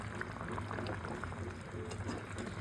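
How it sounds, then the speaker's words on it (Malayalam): A pot of Kerala-style tuna fish curry with kudampuli bubbles and simmers steadily throughout, a soft continuous burble of boiling liquid close by. "നമ്മുടെ മീൻകറി തിളച്ചിട്ടുണ്ട്"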